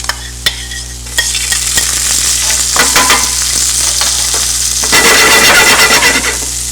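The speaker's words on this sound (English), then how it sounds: "Saute meat and shallots of garlic." Meat, shallots and garlic sauté in a hot pan for a garlic sauce, a loud continuous sizzle broken by sharp scrapes and clinks of a utensil stirring, with no talk.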